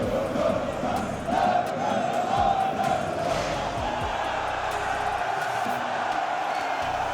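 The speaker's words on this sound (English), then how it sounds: "They just kept cheering." A football crowd in the stands roars and cheers continuously, a dense loud wall of voices with shouts rising and falling.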